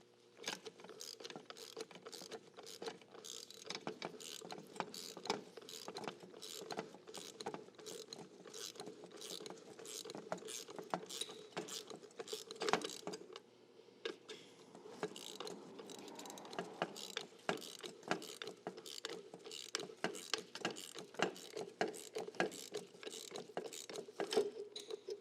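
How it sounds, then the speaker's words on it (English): A box end wrench ratchets on a bolt and hex nut during Subaru Outback suspension work, a long run of quick rhythmic clicks, close and fairly quiet, pausing briefly midway. "Go back to our box end wrench and hex."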